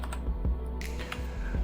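Keys pressed on a budget HUO JI Z-88 mechanical gaming keyboard with RGB lighting: a few sharp, close clicks and clacks spaced unevenly over a low background hum, with no talking.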